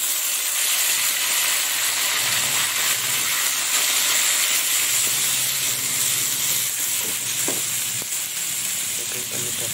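Cabbage tipped into a hot pan of browned chicken and spices sizzles and hisses steadily and loudly close by, with occasional stirring scrapes and no talk over it.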